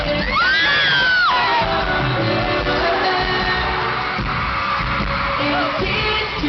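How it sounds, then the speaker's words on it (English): A concert crowd at a show screams loudly and without a break. Massed high-pitched shrieking and cheering saturate the clip, with a rising whoop near the start. "we're screaming our hearts out during that part"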